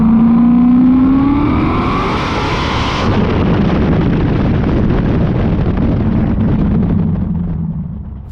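A 1500hp Holden ute with an LSX 427 engine roars loud and close through open side-pipe exhaust, a rising rev giving way at about three seconds to a sustained, crackling full-throttle blare that holds steady to the end, with no talk.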